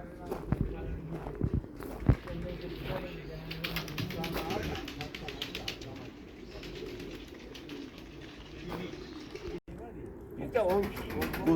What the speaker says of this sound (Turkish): Seyis kuş uçuruyor burada.